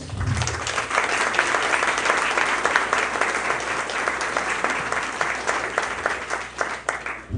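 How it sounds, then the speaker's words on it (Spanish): Church congregation applauding, loud sustained clapping with clearly separated individual claps across the whole stretch, fairly close, with a low hum beneath and a slight fade at the end. "dale un fuerte aplauso al Señor"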